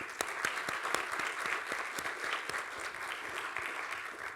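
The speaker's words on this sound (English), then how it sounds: "So give them a round of applause, please." Audience applause closing a governance-by-design event, a steady, even wash of clapping at moderate level throughout, with individual claps standing out near the front.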